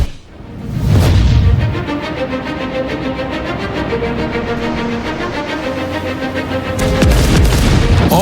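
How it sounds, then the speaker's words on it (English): Battleship main guns firing a salvo in World of Warships, a heavy booming blast followed by a long rumbling roar and rolling tail, with a second boom near the end, loud and alone. "The roar from primary armament fire is a three-layered sound."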